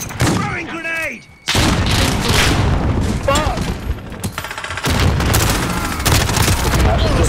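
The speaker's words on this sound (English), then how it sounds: "Throwing grenade!" Rapid gunfire and booming grenade explosions in a multiplayer shooter video game. Loud and nearly continuous, with dense bursts and blasts stacked on each other, plus a short electronic tone and a brief pause early on.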